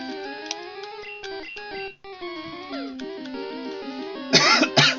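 A person gives a short burst of two loud coughs near the end, over bright chiptune music from a Pokemon Blue game.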